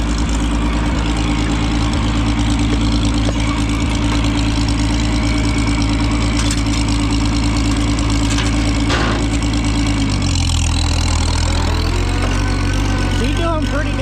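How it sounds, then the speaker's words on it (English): Tractor running an old sickle mower through wet first-cutting hay, a loud steady low engine drone throughout, shifting in pitch near the end, with a voice talking over it. "She's doing pretty damn good for an old sickle mower."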